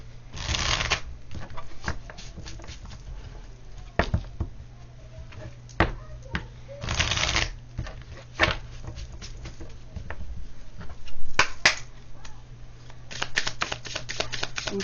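Tarot cards shuffled by hand in repeated riffling bursts, close and fairly quiet, with soft flicks and taps between the passes.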